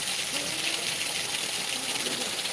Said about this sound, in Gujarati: આજે રવિવારે કાંબામાં ધોધ માર વરસાદ કીધો છે